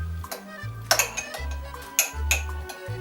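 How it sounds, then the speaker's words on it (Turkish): A utensil stirs potato salad dressed with lemon and olive oil in a bowl, producing close, irregular clinks and scrapes in a loose rhythm over a low steady hum, with no talking. "İyice karıştıralım."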